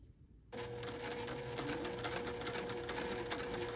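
A sewing machine starts up and runs steadily, stitching appliqué along the edge of English paper pieced fabric hexagons, a close, continuous whirring hum with rapid needle ticking and no voices.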